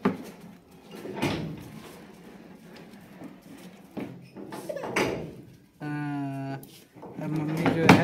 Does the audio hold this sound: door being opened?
yes